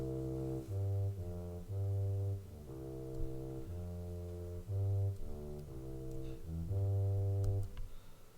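The bass line of a student composition plays by itself as a sequence of deep, sustained synthesized notes, some long and some short, in a steady rhythm with brief gaps between phrases.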